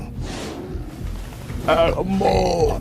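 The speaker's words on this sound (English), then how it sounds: "Excuse me for burping. I had a burp." A low, guttural burp rumbles beneath background chatter, followed by a few louder vocal sounds close by.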